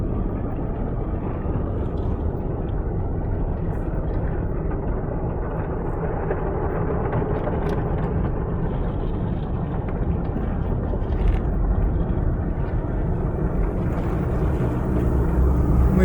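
High-pressure spray hisses and roars steadily at a car wash in Cranberry Township, Pennsylvania, a loud continuous blast of water against a vehicle with no pauses and no talking.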